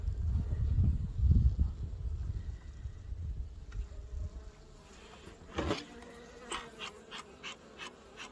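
Honeybees buzzing at an open hive during a spring inspection, a soft steady drone with light handling knocks and rustles nearby.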